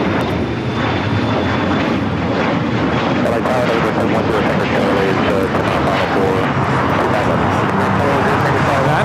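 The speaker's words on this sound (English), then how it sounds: "That is an Embraer Legacy 500." An Embraer Legacy 500 business jet taking off at LAX gives a loud, continuous broadband roar of engine thrust close by, with gusty wind buffeting across the whole stretch.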